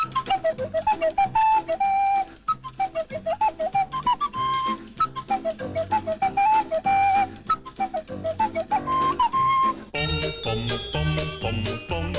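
A whistled melody carries a bouncy theme tune over light musical accompaniment, switching to a brighter, chiming tune near the end.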